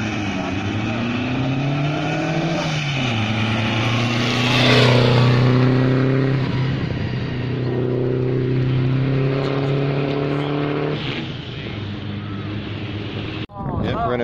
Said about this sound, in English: Low revving.